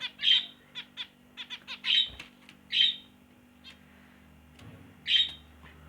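Budgerigars squawk and chatter in sharp, high bursts, several calls close together, loud and near against a faint background hum.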